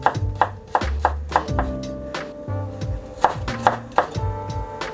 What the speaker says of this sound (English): Let's finally chop the rest of this.